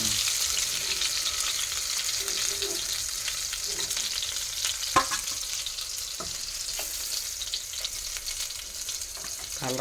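Stuffed brinjals, whole small eggplants for gutti vankaya curry, fry in plenty of hot oil with a steady close crackling sizzle, a few sharp pops and a utensil tap, no voices.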